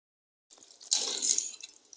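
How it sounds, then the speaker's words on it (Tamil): Water poured into a pot of tomato sambar made without coconut, a short soft splashing pour with dripping that starts after a brief silence and runs for about a second, close and fairly quiet. "இப்போ தண்ணி கொஞ்சம் நம்ம சேர்த்துக்கலாம்."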